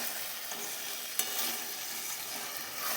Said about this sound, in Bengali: এবার মাংসটা কষে নেব